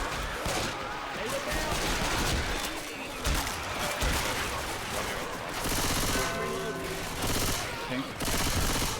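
Gunfire in a shooter video game plays as a nearly continuous, loud rattle of shots with heavy bursts throughout, while a player talks over it.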